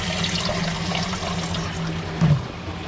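Water running back through hydroponic Dutch buckets into a tank in a greenhouse, a steady trickling flow close by, with a low hum beneath and a brief gurgling swell near the end.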